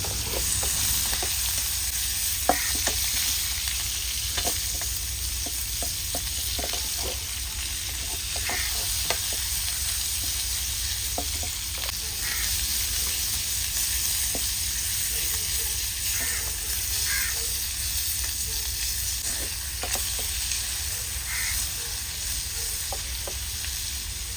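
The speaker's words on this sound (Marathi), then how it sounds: "तूप गरम झाल्यावर त्यामध्ये मॅरिनेट केलेला प्रॉन्स टाका पाच ते सहा मिनटं परतवून घ्या" Marinated prawns sauté in hot ghee for a ghee roast, a steady dense sizzle running throughout with frequent sharp spoon-on-pan clinks and scraping strokes, close and loud, with no talking.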